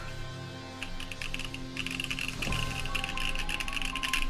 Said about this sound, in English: do a quick typing test.